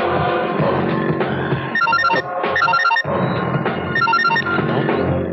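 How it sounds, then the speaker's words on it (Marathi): A telephone rings in a Marathi film scene: a repeating electronic ringtone in short, bright bursts with brief gaps, sounding over a dense, busy backdrop of score and ambience. "फोन लागला का? आधी फोन लागला."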